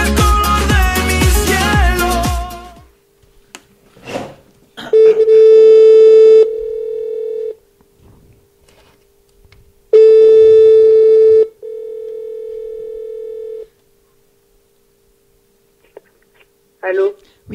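Telephone call placed from a student radio studio: a burst of loud music, then steady ringback tones in long separated pulses with brief clicks between, fairly loud and clear, with some voices nearby.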